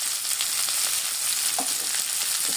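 Eggplant and vegetables frying with turmeric and spices in a pan, a dense continuous sizzle with occasional sharper pops and crackles, close and loud, no talking.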